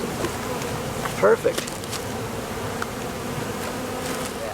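Honeybees buzzing softly during a hive installation, a steady low hum with a few brief louder bursts, with people talking nearby.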